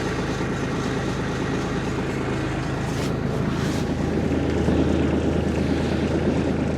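An upgraded Jaylor feed mixer wagon idles with a steady, continuous mechanical drone, its whirring and rumble holding constant throughout, with some wind noise on the microphone.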